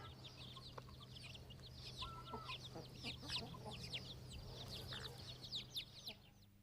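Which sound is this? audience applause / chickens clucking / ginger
chickens clucking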